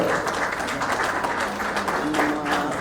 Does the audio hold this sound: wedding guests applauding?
yes